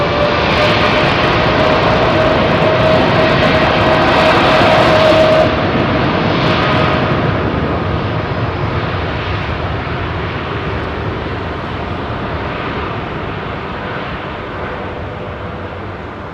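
An Emirates airliner departing runway 27R at London Heathrow makes a loud, close roar of jet engines that peaks early and then slowly fades as the aircraft climbs away, with no talking.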